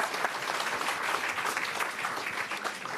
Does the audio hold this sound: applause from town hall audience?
yes